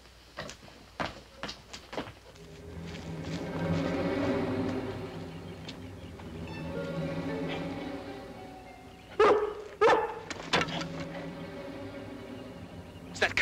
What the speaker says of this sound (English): It's that collie again